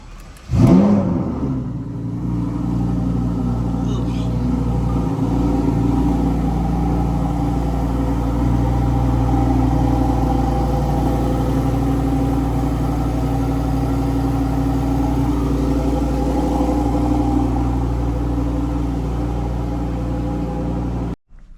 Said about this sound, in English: let's get a nice little cold start here